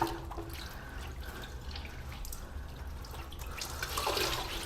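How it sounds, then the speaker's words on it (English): Water splashes and trickles continuously in a horror video game, a dense, close, steady wash of liquid noise that swells slightly toward the end. "Water splashing on your exposed feet."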